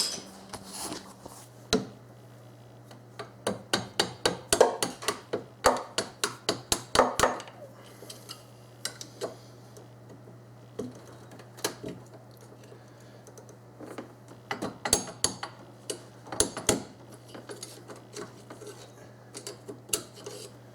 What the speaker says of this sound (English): I'm just gonna have to pound it the rest of the way out. So I have to use a small screwdriver.